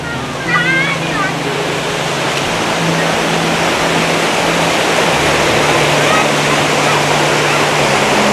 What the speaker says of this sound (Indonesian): Ini airnya sangat deras, guys.